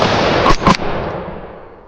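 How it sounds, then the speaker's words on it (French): Rifle shot fired at wild boar during a driven boar hunt: two sharp broadband cracks close together near the start, the second louder, followed by a long fading echo rolling out over the remaining second. "Ils passent assez loin et décident de tirer une première balle quand même."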